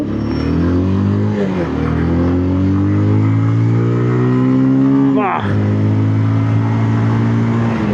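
2026 Bajaj Pulsar 220F motorcycle engine revving up loud and close, pitch climbing steadily over several seconds, dropping sharply, then settling back to a strong steady drone.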